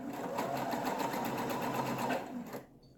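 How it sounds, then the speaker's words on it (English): A sewing machine runs a straight seam up the side of a fabric bag, its rapid even needle chatter loud and close for over two seconds before stopping abruptly. "I am just going to sew straight up the side."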